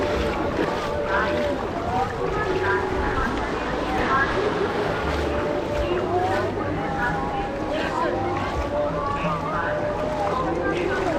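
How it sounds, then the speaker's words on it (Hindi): An NDRF boat circling on the sea at Ganga Sagar, a steady engine and water wash with wind buffeting the microphone and a voice talking over it throughout. "एनडीआरएफ की बोट जो है लगातार घूम रही है"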